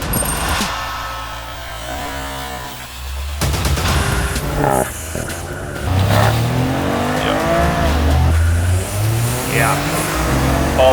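A Golf 8.5 GTI and a GR Corolla launch off the line in a drag race, engines revving loud and climbing through the gears with some tire squeal, as voices talk over the noise.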